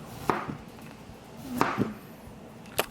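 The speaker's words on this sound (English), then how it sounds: "I'm just gonna slice them like fairly thin. Because this is a bigger zucchini" A knife slices thinly through a large zucchini on a cutting board, giving three crisp chops spaced about a second apart, close and clear with no talking.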